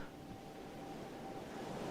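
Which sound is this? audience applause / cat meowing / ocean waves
ocean waves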